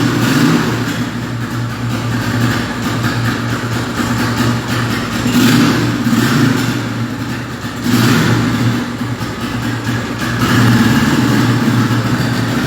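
A Zanella RX 150 motorcycle engine runs cold just after starting, a steady close idle with a few gentle swells in revs throughout.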